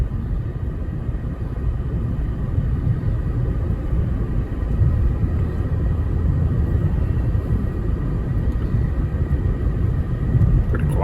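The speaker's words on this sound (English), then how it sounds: "This joker will go. I barely even given it any throttle." A Mercedes-Benz E350 W211 sedan accelerating on a test drive, heard from the cabin as a continuous loud low rumble of engine and road noise, with no clear speech.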